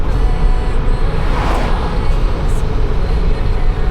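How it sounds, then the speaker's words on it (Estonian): Steady road traffic rumbles past close by, a continuous broad whoosh of passing cars heard from a vehicle, loud and unbroken with no talking. "Autod lähevad mööda."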